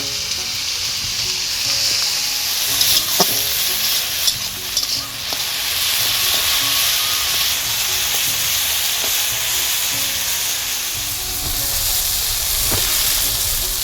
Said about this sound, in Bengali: আমার আলু আর বেগুনটা ভাজা হয়ে গেছে